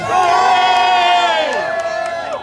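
A large crowd at a StandUpX rally cheers and shouts loudly, with sustained whoops and rising voices blending into a roar that fades slightly at the end.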